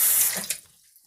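A denture is rinsed under a running tap, a brief close hiss of water that cuts off after about half a second, leaving near silence.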